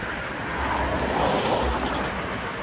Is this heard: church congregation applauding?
no